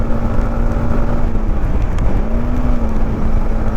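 Modified Yamaha MT-15 motorcycle riding in the rain, its engine holding a steady droning hum with a faint whine, heard close and fairly loud, alone without talk.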